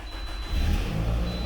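A 2009 Pontiac Vibe engine turns over and settles into a steady mid-pitched idle, loud and close, with no voices.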